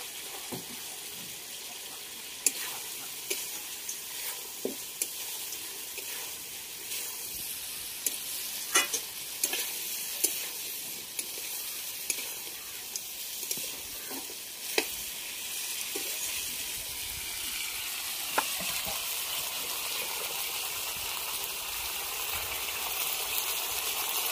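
Duck curry with fried potatoes stirred in a pan, a soft continuous sizzle broken by sharp clicks and scrapes of a spoon against metal, close but fairly quiet, with a running-water tone toward the end.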